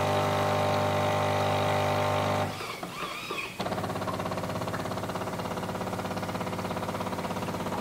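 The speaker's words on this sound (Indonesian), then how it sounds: "Nanti dia akan tembakin air panas dari dalam mesin ke sini supaya" Allegra E30 smart espresso machine flushing hot water through its milk system, with a loud steady mechanical hum and whine that drops into a brief gurgle and hiss, then a pulsing pump drone that continues to the end.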